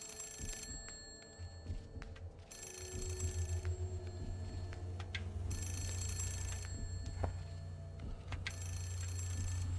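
A telephone rings in a repeating electronic bell pattern inside The Suffering horror video game, bursts recurring about every three seconds over a low droning ambient hum, fairly close and clear.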